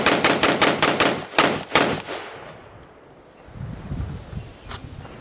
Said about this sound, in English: The Cru Arms 556, piston driven, and guys, it is smooth as butter when you shoot it.